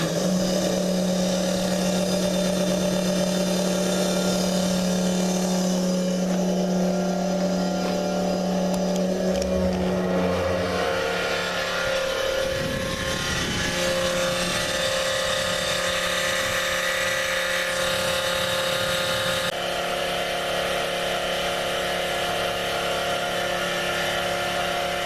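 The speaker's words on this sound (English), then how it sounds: "as soon as we lift this lever, the pump will turn on and start pumping" A Fill-Rite fuel transfer pump runs continuously with a steady electric motor hum and whine, its tone shifting midway as fuel starts moving, loud and close with no talking.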